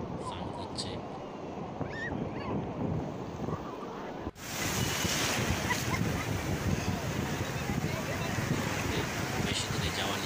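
Sea waves wash onto a crowded beach at Digha with people bathing, a continuous surf roar mixed with wind buffeting the microphone. The sound grows louder and fuller partway through, and distant voices sit underneath.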